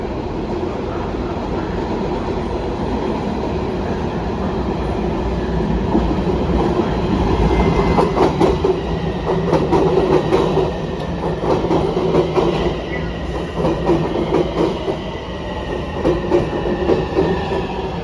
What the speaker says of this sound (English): head up to the platform so we can get on a Green Line train